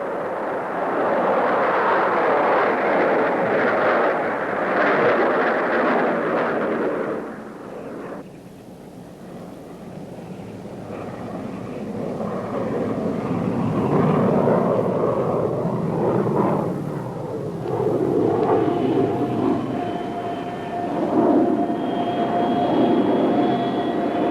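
A jet car's engine roars during a high-speed run on the Bonneville salt flats, a loud, broad rushing blast that dips briefly midway before swelling back into a sustained, rumbling howl.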